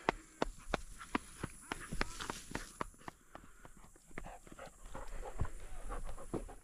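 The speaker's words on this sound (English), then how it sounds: "Dog." A hunting dog pants rapidly and close by during a dove hunt in Alabama, with footsteps crunching through the field and sharp ticks and rustles around it.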